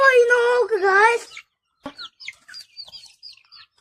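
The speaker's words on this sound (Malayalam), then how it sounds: "എത്ര കോഴി നോക്ക് ഗായ്സ്." Chickens on a farm give one long, drawn-out call up close, then a series of short, sharp clucks and chirps scattered over the following seconds.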